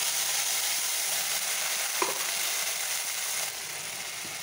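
Garlic, ginger, a green chili and tomato hit hot oil after fried onions for a fish curry, giving a steady, even sizzle with a faint click and a slight drop in level near the end.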